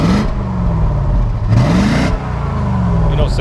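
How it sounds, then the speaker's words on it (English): A 1992 Chevrolet Corvette ZR1 with a 375 hp engine revs twice at idle, each blip rising and falling, close and loud over a steady rumble. "Go ahead and rev it up a little bit."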